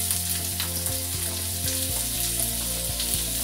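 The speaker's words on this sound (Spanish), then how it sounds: "vamos a empezar a hacer aquí un sofrito" Onion sofrito for boronía frying in a pan gives a constant, even sizzle that stays at one level throughout, with steady tonal music underneath.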